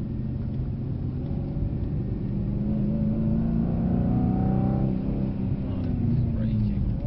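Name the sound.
Mercedes AMG C63 W205 accelerating on Brooklands track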